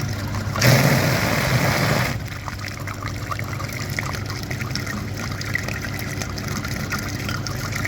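Water rinsing a clogged cooling system filter from a Daewoo Lanos, a strong gushing rush for about a second and a half, then a softer continuous trickle and splash.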